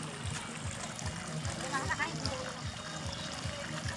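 Spring water flows down from the hills at a hillside picnic spot, a steady rushing trickle heard close under people talking.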